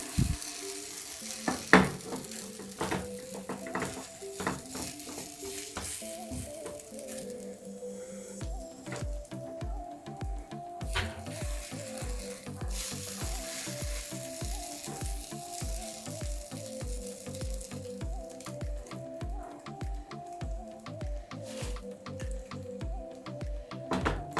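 Buttermilk pancakes fry in a pan with a steady, close sizzle that continues for the whole stretch under a rhythmic background sound.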